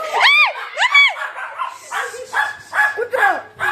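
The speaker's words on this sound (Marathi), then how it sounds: "नाही ती बघा भुंकायची तयारी." A dog inside a house barks repeatedly at close range, with sharp rising yelps and whimpering yips coming in quick bursts while people talk between them.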